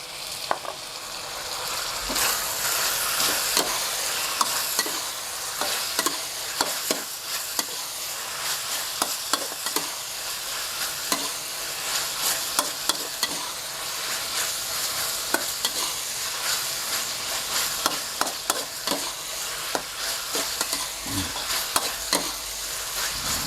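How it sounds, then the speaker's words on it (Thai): Pork stir-fried in a pan until cooked, a steady close sizzle with frequent scraping and clacking of the spatula against the pan throughout, no talking. "จากนั้นผัดให้เข้ากันดีอย่างนี้เลยนะครับ จนหมูเราสุก"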